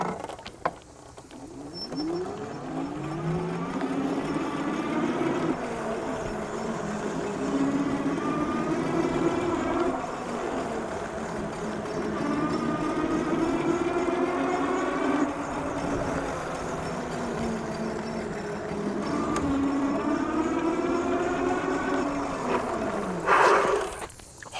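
A TST R002 electric bike motor while riding, a steady mid-level mechanical whine and hum with rising and falling pitch sweeps as speed changes, plus wind and road rumble, sustained for about twenty-five seconds.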